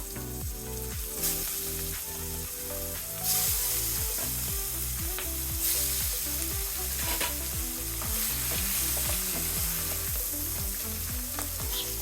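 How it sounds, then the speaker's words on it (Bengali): Small puti fish fry in oil in a pan with a steady, dense sizzle, punctuated by regular scraping and clicking as the fish are turned, with no voices. "বাকি মাছগুলো আমি একইভাবে ভেজে নেব"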